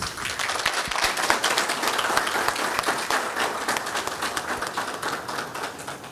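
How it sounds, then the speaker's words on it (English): Applause from an audience welcoming the president of Ghana at a relief donation event for Jamaica, with irregular individual claps standing out over the steady clapping, moderately close and sustained. "Shall we welcome him with an applause, please?"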